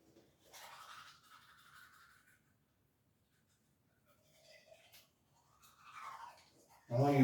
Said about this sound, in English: when you brush, you want to brush the back of your tongue